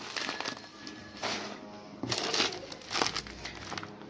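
Plastic bag from a food parcel, holding rice, crinkles and rustles close to the mic in several bursts of handling, with no speech.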